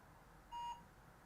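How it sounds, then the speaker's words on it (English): A single short electronic beep from a Zosi DVR sounds clearly over a low steady background hum. "And you hear the beep."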